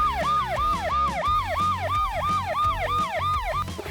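A Bruder Range Rover toy ambulance plays an electronic siren: a steady, rapidly repeating wail that sweeps up and down about three times per second, loud and close throughout.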